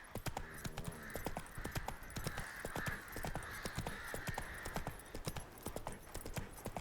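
Roach the horse gallops in The Witcher 3, a fast, continuous run of hoofbeats close up and loud, with almost no talk over it.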